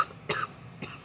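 A single sharp cough from someone who is ill with the flu, close and fairly loud, followed a moment later by a softer second cough or throat clear.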